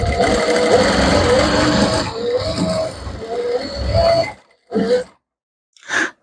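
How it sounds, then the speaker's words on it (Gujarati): A sewing machine stitches a lace edge onto a dupatta, running loud and close with a steady whir for about four seconds, then stopping and giving two short bursts of stitching afterwards. "આપણે ખાલી એક અહીંયા પાકી સિલાઈ આવી રીતે લગાવી દેવાની છે અહીંયાથી"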